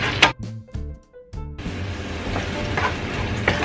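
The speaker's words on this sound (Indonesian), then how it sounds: "Nah, ini sudah cukup mendidih." A pan of sauce for spicy stir-fried eggplant and tofu simmers and sizzles steadily, with a few sharp utensil clinks and stirring scrapes near the start, no talking.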